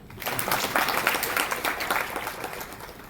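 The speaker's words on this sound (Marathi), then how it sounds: "खरंच आमच्या मुलांसाठी जर एकदा टाळ्या वाजवा" Audience applause fills a hall at a birthday felicitation ceremony for a bank's chief executive, a dense, steady patter of many hands lasting a few seconds.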